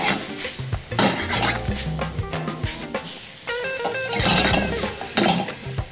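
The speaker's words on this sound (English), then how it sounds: "Now time to put a little bit of butter, the garlic, and the thyme." Mushrooms for duxelles sizzle and fry in a pan with butter, garlic and thyme, steady crackling broken by repeated clinks and scrapes of a utensil stirring against the pan.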